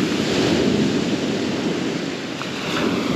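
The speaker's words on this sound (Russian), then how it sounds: "дать вам пару секунд послушать море" Winter sea surf washes onto a pebble beach at Lazarevskoye near Sochi in January, a steady broad hiss and roar of breaking waves with wind, no voices.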